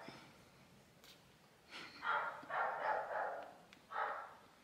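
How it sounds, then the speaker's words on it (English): A neighbor's dog barks in a run of muffled barks, moderately loud and somewhat distant, after a quieter opening. "It's my neighbor's dog."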